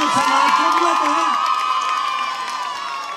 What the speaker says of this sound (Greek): Πάμε ένα δυνατό χειροκρότημα, να τους προετοιμάσουμε